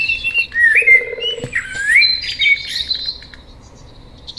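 Shrill, warbling bird calls from the video game Deadside ring out in several rising and falling phrases, loud and close, then fade into quiet background rumble near the end.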